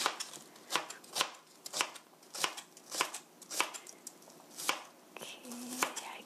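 A knife julienning vegetables such as onion into thin 0.3 cm strips for japchae, knocking on a cutting board in a steady run of sharp, close chops, about a dozen evenly spaced strikes with no talking.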